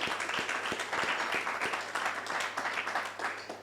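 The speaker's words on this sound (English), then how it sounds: "Clap for yourself," Audience at a writers' and storytellers' gathering claps for themselves, steady moderately loud applause from a room of people with distinct individual claps audible throughout the crowd noise.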